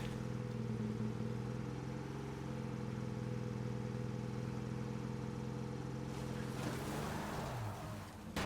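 A car engine in the video game State of Decay 2 droning with a rough, rattling hum as if loose parts shake inside, steady and fairly faint before a louder burst of noise near the end, with no talking.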